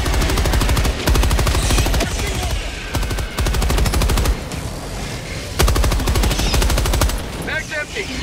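Rapid machine gun fire in Helldivers 2 rattles in long, loud bursts with short gaps between them, close and dense, with players' shouting briefly audible near the end.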